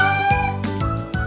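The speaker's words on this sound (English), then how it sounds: "a soft mew like a cat" A cat meows softly in a quick series of four short, close mews that rise and fall, heard alone without talking.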